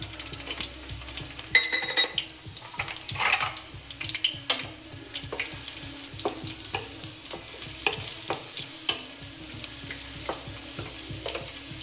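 Onions fry in hot oil for chicken pepper dry with a soft, steady sizzle, broken by intermittent stirring scrapes and taps against the pan, close up over a faint background hum.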